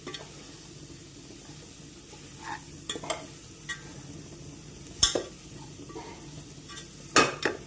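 Beef stirred in a pan with chili powder and turmeric, a low steady sizzle broken by several spatula scrapes and two sharp metallic clanks against the pan, close and quiet with no talking.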